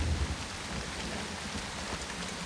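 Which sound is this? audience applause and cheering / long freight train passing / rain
rain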